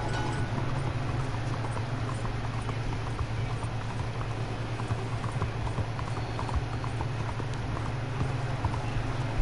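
Horse hooves clip-clop at a walk in Red Dead Redemption 2 on a rainy street in Saint-Denis, soft rhythmic steps under a steady hiss of heavy rain.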